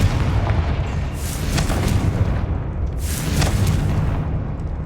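Booming blasts of a Confringo explosion spell in a magical castle video game, two broad roaring bursts over a loud, constant rumbling background.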